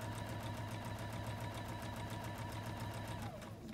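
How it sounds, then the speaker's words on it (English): A Juki DX 3000 QVP quilting sewing machine stitches at a fast, steady rhythm with a continuous mechanical hum and evenly spaced needle ticks, close by, slowing and stopping at the end. "So I'm going to put the presser foot down, and we're just going to sew."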